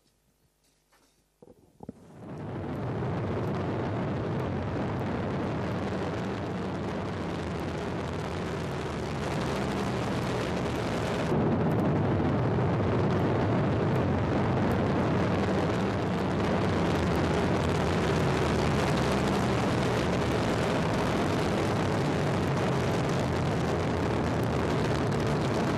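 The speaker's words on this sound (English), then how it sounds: "you did see the very quick ascent of Vega as she lifted very rapidly off the" Vega rocket lifting off, a massive continuous roar that surges in abruptly and holds loud and broadband throughout, heard from a distance with no talking.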